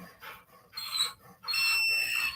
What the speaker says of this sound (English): Did you just come in from outside all panting,